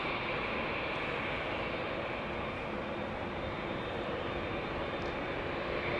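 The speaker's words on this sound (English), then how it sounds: "Hey, we have a Dreamliner coming this way, going to Mumbai." A KLM Boeing 787 Dreamliner bound for Mumbai at Schiphol Airport produces a continuous, fairly faint engine drone with a soft whine, steady throughout and heard alone.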